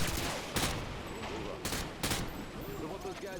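Gunfire in Call of Duty Modern Warfare 2: several sharp bursts of shots crack out amid a continuous rumble of battle noise, with a faint voice murmuring underneath.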